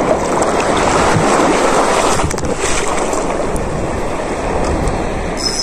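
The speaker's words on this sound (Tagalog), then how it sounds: "Ang lalaki ng alon guys." Big ocean waves at sea around a small fishing boat out after giant trevally, a loud steady wash of surf and water rush with wind buffeting the microphone throughout.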